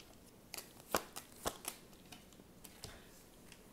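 Tarot cards shuffled by hand in quick, irregular riffling bursts, close and fairly quiet, with no voice.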